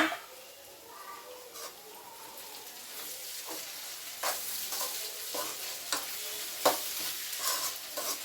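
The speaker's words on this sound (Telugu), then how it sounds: "చక్కగా ఫ్రై అవుతుంది" Grated beetroot and carrot frying in a pan with salt, a steady soft sizzle broken by repeated scraping stirs that grow busier toward the end, close and moderately loud with no talking.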